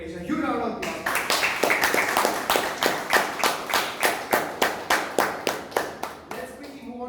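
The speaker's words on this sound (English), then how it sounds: "A huge round of applause" Meeting audience at a Bangalore Toastmasters club clapping in a steady, fairly even rhythm of distinct handclaps for several seconds, with brief talk at the start and end.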